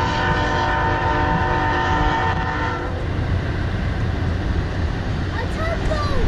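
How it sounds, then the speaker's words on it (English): A train rolls past close by with its horn sounding steadily through the first half, then a loud continuous rumble of rail cars carries on to the end. "Another train?"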